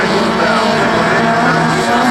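An autocross race car in a 1600 class brakes hard on a circuit, a loud dense engine roar with a steady howl that holds over the short stretch.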